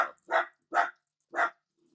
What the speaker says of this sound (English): Yeah, look at that little puppy.